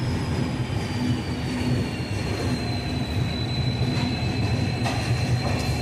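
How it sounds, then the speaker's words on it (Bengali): Tourist express train running from New Jalpaiguri toward Alipurduar Junction near Siliguri, with a steady rolling rumble, faint wheel squeal and occasional clicks from the track. "এই ট্রেন ছেড়ে যাবে শিলিগুড়ি জংশন স্টেশন থেকে এবং এগোতে থাকবে তার গন্তব্যের দিকে আলিপুরদুয়ার জংশন"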